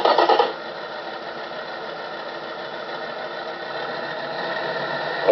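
A car engine in a video game idles at about 1,000 RPM with a low, even, continuous hum and faint mechanical vibration, steady throughout with a slight swell toward the end.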